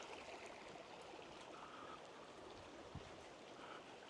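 Mountain streams rushing in a remote highland village, a steady broadband rushing wash that fills the whole clip without pause, with no voices heard.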